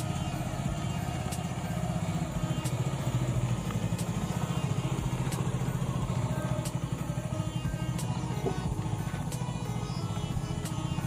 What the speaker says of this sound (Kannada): ಈಗ ಮಗ ಬೈಕ್ ಬಿಡ್ತಾ ಇದ್ದಾನೆ.